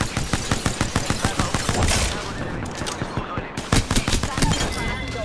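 Rapid bursts of automatic gunfire in a shooter video game crackle loudly and almost continuously, with a brief lull midway before the shooting resumes, over a busy game soundscape.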